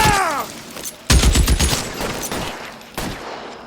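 Gunfire in the LA Noire video game: a loud close burst of rapid shots, a pause, then another sharp report, with no talk over it.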